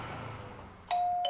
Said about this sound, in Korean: 초인종벨을 눌렀습니다.